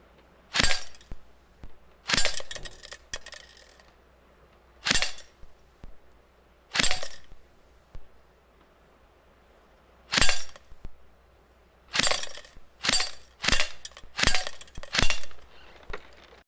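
Airsoft pellets fired and striking a target at about eight metres: sharp, loud cracks, some single and well spaced, others in quick clusters of two or three, against a quiet background.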